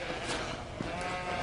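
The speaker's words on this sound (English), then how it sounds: "Taking up sheep farming, are we, Claude?" Sheep on a farm bleating softly in a short wavering call, heard at a distance over steady outdoor background noise.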